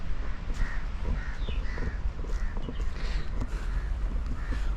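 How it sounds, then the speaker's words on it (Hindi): Crows caw repeatedly from the trees of a park in Delhi, with harsh, evenly spaced calls at moderate distance over a low background rumble. "यहाँ पर कितनी छोटी छोटी चिड़ियाँ हैं जो पेड़ की पत्तों के बीच में बैठे, जो दिखाई नहीं दे रही, लेकिन उनकी मधुर आवाज़ सुनाई दे रही है"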